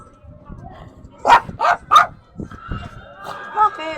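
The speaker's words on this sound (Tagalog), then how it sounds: "Ah, doon pala yung malaking aso." A large dog barks three times in quick succession, loud and close, followed by a short whimper and a faint voice.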